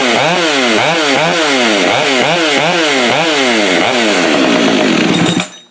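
A Husqvarna 572XP chainsaw with a modified muffler, built from used parts, restarts and runs close and loud, its engine surging up and down in a steady pulsing rhythm for about five seconds before cutting off abruptly.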